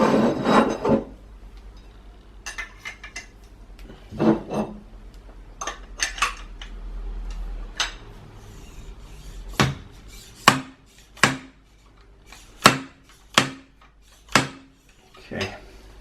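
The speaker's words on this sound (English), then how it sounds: "drop your oil seal down and drive that in as well" An oil seal is driven into a KTM WP Xplor motorcycle fork leg. Some softer knocks and clinks come first, then about seven sharp, ringing taps land in a steady rhythm, close and loud.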